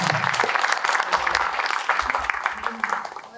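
Listeners at a long panel discussion clap for the organizer, a short burst of scattered applause that fades while a voice talks over it.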